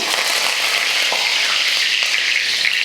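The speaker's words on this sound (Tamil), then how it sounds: "எண்ணெய் காஞ்சதுமே கொஞ்சம் வெந்தயம், அடுத்து கருவேப்பிலை" Fenugreek seeds and curry leaves crackling in hot oil for a tamarind curry tempering, a bright, dense sizzle that stays steady and close, with no speech.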